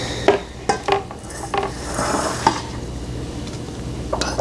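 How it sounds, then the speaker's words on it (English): A metal cake pan clatters and knocks in a kitchen during cheesecake making, giving several sharp bangs and scrapes spread through the clip at moderate volume. "I had to get the cake pan to put it on."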